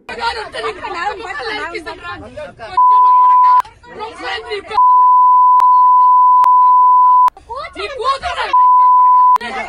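A steady censor beep tone sounds in several long bursts, cutting in between stretches of a woman's heated, abusive speech recorded from a public altercation.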